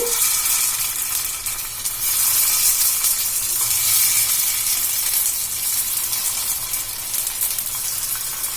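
Sago balls fry in oil in a paniyaram pan, giving a steady, close, bright sizzle and crackle that holds at an even level throughout, with no voices.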